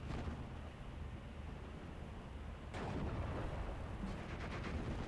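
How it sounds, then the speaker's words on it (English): Artillery fire in the Steel Division 2 video game, a continuous low rumbling barrage with a sharper blast partway through and a denser crackle of impacts afterward, moderately loud under the mix. "Now his arty's trying to pick off my machine gun."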